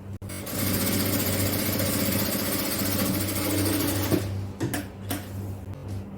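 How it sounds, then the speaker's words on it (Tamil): A sewing machine hums and stitches steadily at close range, running continuously for about four seconds before stopping, followed by a few clicks and handling sounds. "இதுல கூட ஒரு தையல் போட்டுக்கலாம்."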